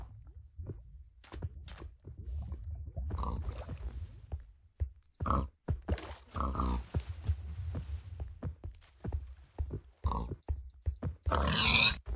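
Blocky pigs in Minecraft grunt in short, repeated bursts scattered over a low droning game background, fairly close, with several snorting grunts spread across the stretch.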